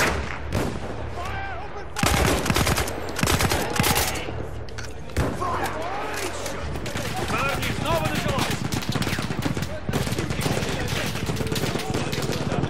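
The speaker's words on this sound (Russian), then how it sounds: "Меткий выстрел, Бишоп!" Rapid bursts of World War I–era gunfire from the video game Battlefield 1 crackle and thud, sharp repeated shots in clusters with louder impacts, while a voice speaks intermittently beneath the shooting.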